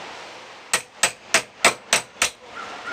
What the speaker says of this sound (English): tap the corners of your wire to make a nice, neat fold